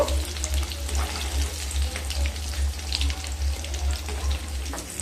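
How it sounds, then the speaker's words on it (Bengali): Elephant foot yam pieces fry in oil with a continuous close, bubbling sizzle, while a low mechanical hum throbs in a steady rhythm underneath. "সমস্ত ওলগুলোকে ভেজে নেব"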